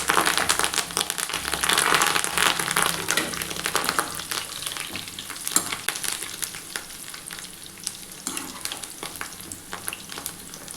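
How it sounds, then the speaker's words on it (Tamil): Loud, steady crackling sizzle of a bunch of curry leaves frying in hot oil, with busy popping and spitting throughout. "இந்த டைமில் ஒரு கொத்து கருவேப்பிலையை அந்த எண்ணெயிலே போட்டுடலாம்."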